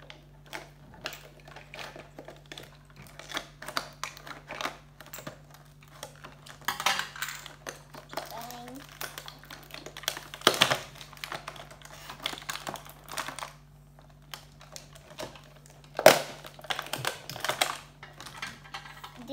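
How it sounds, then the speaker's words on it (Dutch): Scissors cut open plastic packaging on a Disney Doorables Rapunzel tower toy in a close series of sharp snips, clicks and crinkles that come in irregular bursts. "Dus ik gebruik de schaar."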